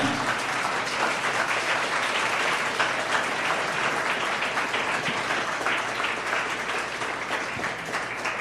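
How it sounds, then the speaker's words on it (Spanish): Church congregation applauding steadily and loudly at a Resurrection sermon, a dense, continuous wash of many hands clapping that holds evenly throughout with no talking. "si le vas a aplaudir"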